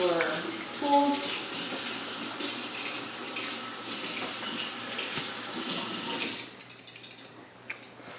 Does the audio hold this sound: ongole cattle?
no